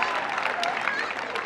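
A church congregation claps during a pastor's sermon, a steady, dense wash of many hands applauding at close range for the whole moment, with voices mixed faintly into the crowd noise.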